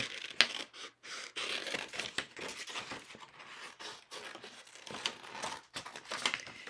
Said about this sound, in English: I can probably fussy cut out that other one.